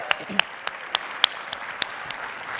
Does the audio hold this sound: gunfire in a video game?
no